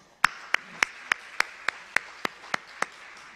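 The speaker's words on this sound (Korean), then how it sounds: "박수로 한번." A Sunday worship congregation in a Korean church claps together in a slow, even rhythm, about ten crisp unison claps spaced steadily apart, moderately loud with a light room echo.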